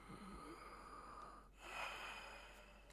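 Arthur Morgan draws a single slow breath for a doctor's examination in the Red Dead Redemption 2 video game, a soft, faint airy swell near the middle with nobody talking.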